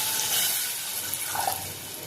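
Water pours steadily into a pan of spice mixture with red chilli and coriander-cumin powder for a Gujarati raw banana curry, a close, continuous splashing trickle with no talk.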